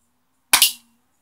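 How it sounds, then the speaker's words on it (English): A single sharp gunshot from a Beretta pistol fired at a shooting test, one loud close crack with a quick decay and no talk. "this is gonna be a short shooting test with my Beretta"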